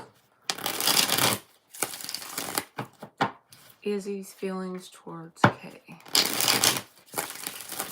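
Tarot cards are shuffled in bursts of rapid riffling, several separate rounds, close and crisp, with someone speaking briefly between them.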